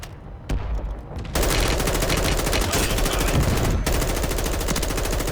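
Rapid automatic gunfire in the shooter game Warzone, a few opening shots followed by a loud, sustained burst of machine-gun fire that continues with only a brief break.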